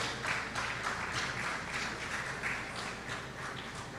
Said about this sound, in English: I wanted to give yourselves a round of applause for looking as fantastic as you are.